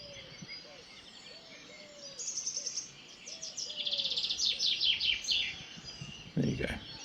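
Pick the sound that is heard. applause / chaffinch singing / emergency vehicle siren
chaffinch singing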